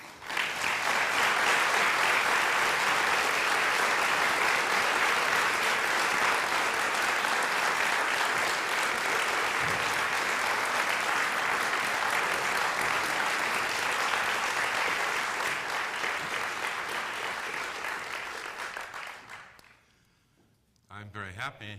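An auditorium audience gives lecturer Garry Wills a sustained, loud round of applause, dense clapping holding steady for nearly twenty seconds before thinning out and stopping.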